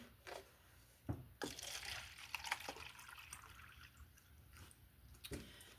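Water pours and trickles into small cups of tomato and pepper seedlings in quiet, intermittent splashes, with occasional soft knocks from handling the containers.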